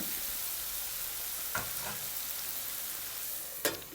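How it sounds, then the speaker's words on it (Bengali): Bitter gourd frying with small potatoes in a pan, stirred with a steady low sizzle and a couple of brief scraping strokes, close and fairly quiet with no talking. "আবারও ভালো করে নেড়ে দেবো আমি সবসময় করলা ভাজি ছোটো আলু দিয়ে"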